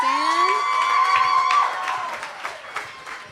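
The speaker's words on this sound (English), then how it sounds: "And don't stop clapping." An audience at a Juneteenth celebration claps and cheers, with whoops and shouts rising at first and then tapering off into scattered applause.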